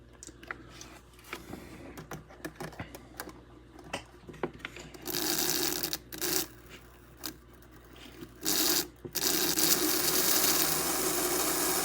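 A freshly oiled Tri-ang Stephenson's Rocket model locomotive motor runs in short bursts, a buzzing mechanical whir that starts and stops several times, loudest and steadiest toward the end.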